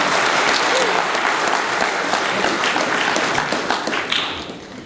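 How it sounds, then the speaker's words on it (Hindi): An audience applauds loudly at a live music event, with dense clapping filling the space close by before thinning out toward the end. "उनके लिए जोरदार तालियां बजी थी।"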